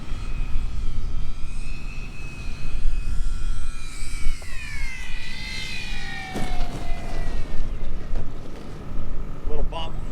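Dynam Tucano RC model airplane coming in to land in gusty crosswind, its electric motor whining and shifting pitch as it passes, under wind noise with someone talking.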